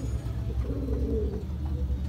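Green Madrasi pigeons cooing in a loft, a low, steady murmuring coo that continues throughout at moderate volume, with no talking over it.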